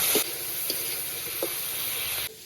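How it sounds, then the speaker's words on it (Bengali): Yardlong beans, flat beans and potato pieces fry in a pan with slit green chillies, salt and turmeric, giving a close, steady, loud sizzle with faint stirring bumps and no talk. "বেশ ভালো করে বরবটি সিম আর আলুটা ভেজে নেব"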